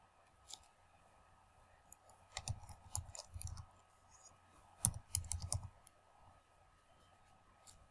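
Keys on a computer keyboard clatter in two short, close bursts of rapid typing, with faint clicks in between and a quiet room hum underneath.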